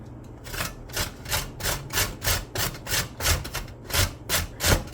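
Carrot rubbed against a kitchen grater, a steady run of about a dozen rhythmic rasping strokes, close and clear with no talking.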